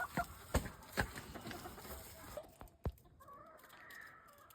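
Yard fowl hens clucking in a farmyard, faint soft clucks and short calls with a few sharp knocks and rustles, fairly quiet and close.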